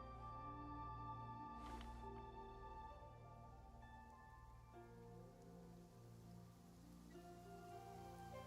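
Steady rain falling and pattering on surfaces, soft and continuous for several seconds with no voices.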